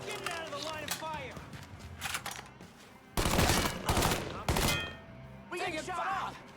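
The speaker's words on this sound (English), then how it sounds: "We get shot up!" Gunfire in Mafia III comes in loud bursts of rapid shots between stretches of shouted speech, with sharp cracking volleys standing out near the middle and again later.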